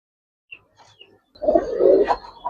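Giribaz pigeons coo nearby: a few soft faint calls first, then a louder rolling coo that lasts about a second, with no talking.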